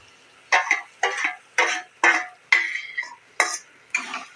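Pointed gourd paste being worked into fried spices in a pan, heard as about eight distinct, evenly spaced scraping strokes of a spatula, each a short sharp swish, close and clear with quiet gaps between.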